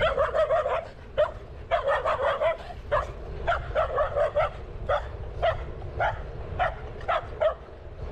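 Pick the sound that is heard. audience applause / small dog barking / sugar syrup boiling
small dog barking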